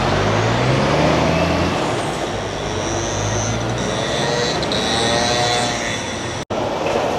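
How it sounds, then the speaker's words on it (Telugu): A lorry carrying heavy equipment passes on a Paris street, with a loud, steady engine roar and rumble close by, hissing air brakes, and a brief cut near the end. "ఏదో భారీ ఎక్విప్మెంట్ వెళ్తుంది లారీ మీద."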